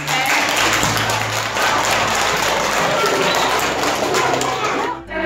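A group of schoolchildren claps together at an origami workshop, a dense, steady burst of applause that holds for about five seconds before fading.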